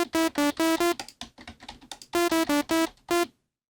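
Computer keyboard keys pressed to play notes as a MIDI controller in Ableton 10, triggering loud synth tones in short bursts, two quick groups of four and then one single note, each separated by brief gaps.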